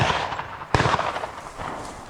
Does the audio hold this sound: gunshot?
yes